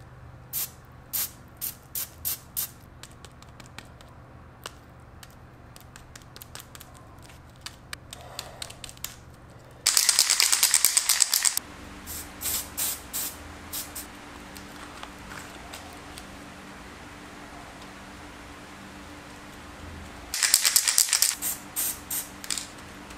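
Two loud hissing bursts of spray paint over tape on a camera body, each lasting a second or two, stand out between quiet clicks and handling noises.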